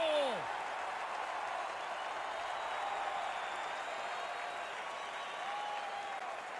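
Steady roar of a big arena crowd at a virtual NHL 2021 hockey game, cheering and applauding without a break from start to end, loud and unbroken, with a short whistle-like tone near the start.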